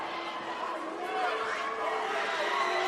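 Restless crowd murmuring and chattering at a 2v1 fight event featuring Eddie Hall and the Neffati brothers, a steady mid-level rumble of many voices with a commentator talking over it.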